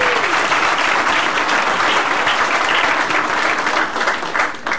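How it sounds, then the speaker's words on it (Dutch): Broad, steady applause fills a church service as the congregation claps for a team, loud and continuous before tapering slightly at the end. "Maar ik wil eigenlijk even een applaus voor ze vragen."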